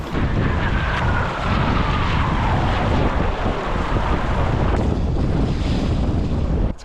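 Heavy wind buffets the microphone while rafting down an icy Alaskan river through slush, a loud continuous rumbling gust mixed with rushing water, with no voices.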